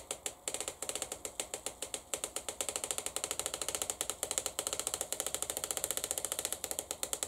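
A homemade Mark 2 poly cutter runs with a fast ratcheting clatter, a steady stream of sharp mechanical clicks like gears or a pawl, fairly faint and continuous, with no voices.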